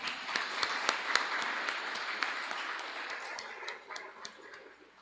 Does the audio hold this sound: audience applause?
yes